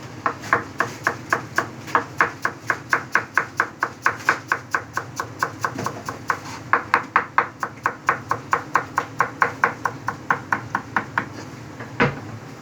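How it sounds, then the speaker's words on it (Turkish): Rapid, rhythmic knife chops of fresh dill on a board, dozens of quick close taps in a steady run with a few brief pauses, no voices. "Şimdi dereotunu doğrayacağım."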